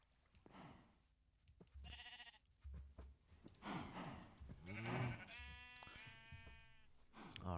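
A Minecraft sheep bleats a few times in a Project Ozone 3 modpack game, short wavering calls between quiet gaps, faint and close, with someone talking around them.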